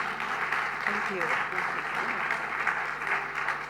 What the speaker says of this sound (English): A big applause for the very interesting discussion